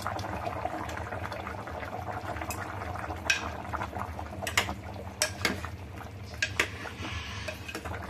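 Jaggery is stirred into mango raita in a pot, giving a soft, steady simmering bubble under scattered scraping and clinking of the spoon against the pot.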